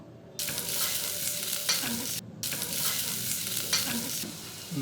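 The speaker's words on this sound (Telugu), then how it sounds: "కొద్దిగా కరివేపాకును, పుదీనాను ఇవన్నీ వేసుకొని మరొకసారి చక్కగా కలుపుకోండి." Curry leaves, mint and turmeric stirred and frying in a hot pan for a restaurant-style paneer masala curry, giving a steady loud sizzle broken by scraping stirs and two brief pauses, with no voices.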